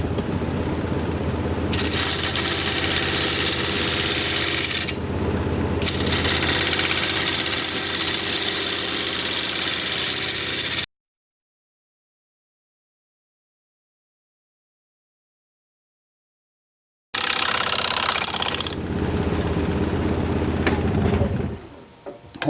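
Wood lathe spinning a cherry plum bowl blank at 1200 RPM with a sharp gouge, giving a loud steady motor hum and cutting roar that breaks off into silence midway, then resumes.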